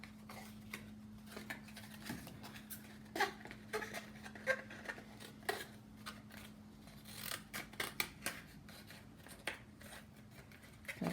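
Quiet, irregular snips and crunches of scissors cutting through stiff cardboard, with a steady low hum in the background and no talking.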